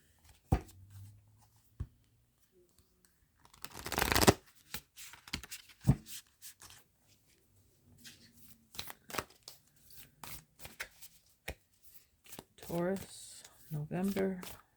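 Tarot-style archetype cards drawn from a deck: brief papery shuffles and a flurry of card slaps, with a louder burst near the middle, set among scattered soft taps while a person speaks quietly in between.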